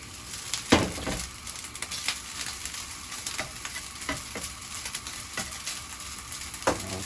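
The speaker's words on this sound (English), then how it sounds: "We can cook it for more like 10 more seconds before we turn off the fire." Chinese fried rice stir-fried in a hot pan, with a steady close sizzle broken by about half a dozen scraping stirs of the spatula, no voices.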